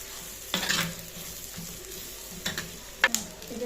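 Food fries in a pan with a low background sizzle, broken by a few sharp clinks and scrapes of a spoon stirring against the metal. No one speaks.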